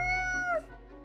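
A cat in the game Death and Taxes lets out a single drawn-out meow that slides downward and ends abruptly, heard alone over a low steady hum.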